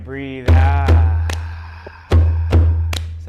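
Deep thumping body percussion imitates a heartbeat, paired double thuds repeating twice, with lighter slaps and taps above them.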